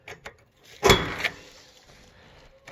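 A heavy tan and brown trim door in a one-bay automotive shop being moved, giving one loud scraping, rattling burst in the middle, with softer knocks before it and a quieter trailing rumble after.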